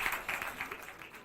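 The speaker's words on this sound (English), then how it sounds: "your applause is much, much appreciated" Audience applause, a dense wash of clapping at moderate volume with rhythmic swells throughout, no voices over it.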